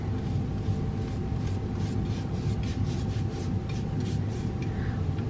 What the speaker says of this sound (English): You could also take a towel and just gently rub it on.